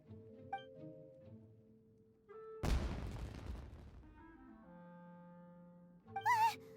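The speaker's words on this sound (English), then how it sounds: "It sounded like fireworks." A single firework-like explosion bursts out in a video game, loud and sharp with a crackling decay, over soft sustained musical tones, followed later by a brief rising whistle.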